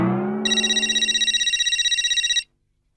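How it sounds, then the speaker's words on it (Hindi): A telephone rings in a domestic scene from a TV comedy, a fast trilling electronic bell that starts after a fading tone, holds steady for about two seconds, then cuts off abruptly. "शैतान का नाम लिया और शैतान का फोन आ गया।"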